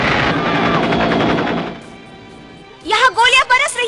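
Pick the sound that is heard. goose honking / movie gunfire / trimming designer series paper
movie gunfire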